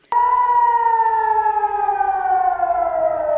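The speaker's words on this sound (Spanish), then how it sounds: "Las sirenas anunciando a la población civil israelí el lanzamiento de cohetes sonaron más de 500 veces" A single loud Israeli rocket-warning air raid siren wail sounds alone, a steady tone that starts abruptly and slowly falls in pitch as it sustains.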